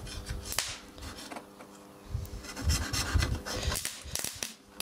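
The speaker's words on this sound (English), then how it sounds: "Some sort of bloody coating on the can I've got to scratch off." Quiet, irregular scraping and scratching comes from close by as a coating is scraped off a metal can by hand, with short bursts of rubbing separated by brief pauses.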